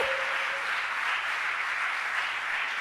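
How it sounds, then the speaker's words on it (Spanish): Steady, dense applause from a church congregation fills the space without a break, a continuous even wash of clapping with no voices standing out. "dale fuerte el aplauso al Señor"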